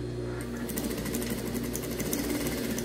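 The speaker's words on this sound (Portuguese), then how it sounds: "E costurar toda em volta, deixando essa parte de cima aberta." A sewing machine runs steadily, stitching all the way around a small fabric tab placed right sides together with a batting layer for a pet harness, its motor humming continuously with a rapid needle chatter and no talk.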